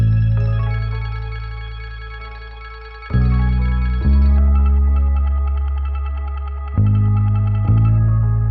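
Sustained, heavily processed tones swirl and shift with a sweeping, whooshing modulation and a washy reverberant tail, changing pitch in a few distinct steps.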